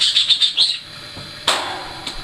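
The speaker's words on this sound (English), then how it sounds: "This bird right here." A bird chirps in a quick run of five bright, close tweets, then a louder single call follows after a short pause, with no voices present.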